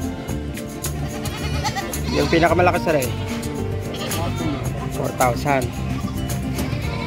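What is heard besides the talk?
goats bleating at a livestock market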